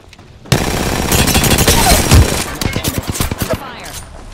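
Gunfire erupts in Apex Legends: a sustained, loud burst of rapid automatic fire, followed by a string of separate sharp shots. The shots grow sparser toward the end.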